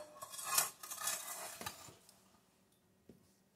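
Wood stove grate being shaken so coals drop through, a close metallic rattling and clinking that peaks early, then fades to a few faint knocks.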